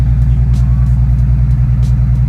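Steady low rumble of a BMW 335i engine idling with a misfire, an uneven pulsing thrum that stays loud and close without pause.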